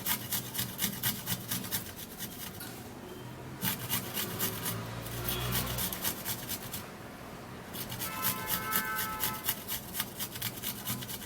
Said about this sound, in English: now I would have to be using a grater to grate it because it's actually tiny.